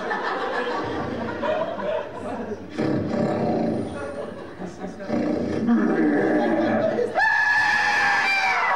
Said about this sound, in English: We heard the creature roar,